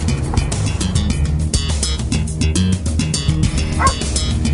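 A high-drive search dog barks and yips over and over, loud and close, with a brief whimper near the end and a steady rumbling background underneath.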